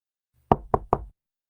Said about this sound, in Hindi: यूसुफ ने दस्तक दी।